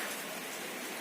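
Rain falls on a small 20-watt-peak solar panel setup, a dense, even patter of drops that holds steady and fairly faint throughout.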